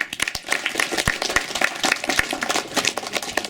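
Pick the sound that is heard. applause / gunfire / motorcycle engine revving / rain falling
applause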